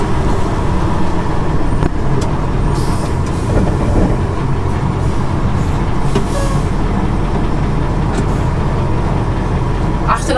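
A MAN KAT 8x8 expedition truck creeps slowly down a sloping off-road track, its engine a steady, loud low rumble throughout, with faint rattles and knocks from the vehicle body.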